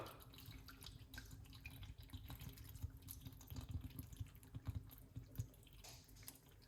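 Faint, steady trickle of coconut water running and splashing into a container, with a few soft drips and a low background hum.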